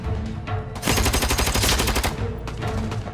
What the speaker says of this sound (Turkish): Ağır silahlarını kullanmaya başladılar.